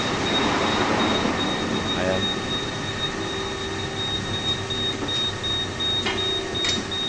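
A large 1800 US ton extruder running during assembly work, producing a loud continuous mechanical hum and rumble with a steady tone, while a worker speaks briefly over it.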